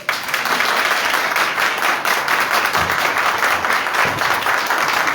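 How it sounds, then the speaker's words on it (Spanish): Sustained, dense applause from a church congregation rolls on at an even, loud level throughout, with no pauses and only faint traces of voices beneath. "Den un aplauso al Rey."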